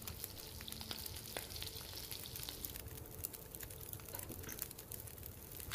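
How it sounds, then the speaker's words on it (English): Fish cooking over a fire in The Long Dark crackles and sizzles quietly, with a dense, steady frying hiss broken by small irregular pops. "Get this fish cooked up."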